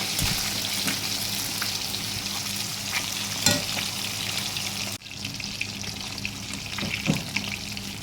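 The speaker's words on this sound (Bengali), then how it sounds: "এই পিঠটা হয়ে গেলে অপর পিঠটা ভালো করে ভেজে নিতে হবে" Pieces of katla fish fry in hot oil over a medium gas flame, a dense continuous sizzle heard up close, with a few clinks and a brief break partway through, no voices.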